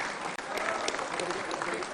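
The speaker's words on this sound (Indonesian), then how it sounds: "Berikan tepuk tangan yang meriah." An audience at a party anniversary celebration gives dense, sustained applause for a short moment, loud and close.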